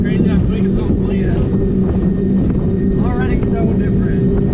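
A 1000hp Fountain Thundercat catamaran powerboat runs on plane on a lake at the Ozarks, its engines a loud, steady roar under people talking in the foreground.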